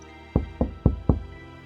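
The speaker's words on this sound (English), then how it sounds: "3 soft, evenly spaced knocks" Four soft, evenly spaced knocks on a front door, dull and close, each a short thud separated by a brief pause in an otherwise quiet room.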